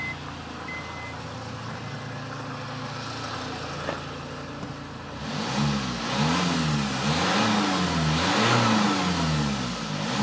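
A cheap used Japanese car, bought at £500 and checked for smoke, runs at a steady rumble. Halfway through, the engine is revved repeatedly in loud, wavering surges, close by and with no talking.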